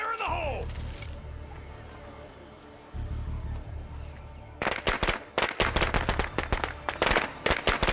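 Thrown explosives in a video game with a pyro launcher quest go off in a rapid, loud string of sharp firecracker-like bangs over the last three seconds, after a low game rumble and a voice.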